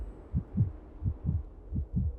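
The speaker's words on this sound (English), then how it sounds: "Hear my heartbeat." Heartbeat in Honkai: Star Rail, a low double-thump pulse repeating three times at a steady rhythm, fairly loud and close with no talk over it.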